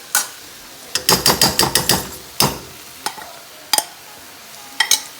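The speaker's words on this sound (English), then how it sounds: "I'm just adding the rice into the shrimp because it is now ready for that next step" Uncooked rice tipped into a pan of shrimp for paella, then stirred with a utensil: a quick run of scraping, clattering strokes against the pan, followed by a few separate knocks and scrapes, close and fairly loud.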